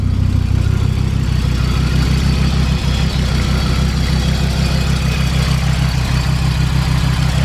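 A 1991 Audi 90 Quattro five-cylinder engine idles through a true straight-pipe exhaust, giving a steady, throbbing low burble that is loud and close with no talking over it.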